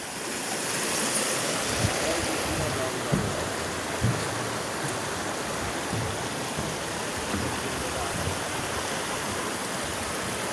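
A river in Dharan, eastern Nepal, rushes steadily over a stony bed, a dense, continuous broadband wash that stays even and fairly close throughout with no voices.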